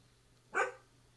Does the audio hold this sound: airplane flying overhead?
no